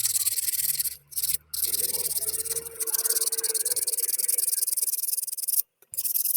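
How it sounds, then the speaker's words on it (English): Sandpaper rubbing over the head of a hand-carved wooden spoon, a continuous close scratchy hiss with a few brief pauses between strokes. "To sand the head of the spoon, you need to use your thumb, like how I am using it."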